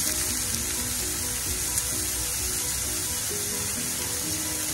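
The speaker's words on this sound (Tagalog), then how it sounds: "Yan, ipipirito lang muna natin siya dyan." Shrimp frying in a pan, a constant bright sizzle crackling close up, with a low bubbling underneath and no talk.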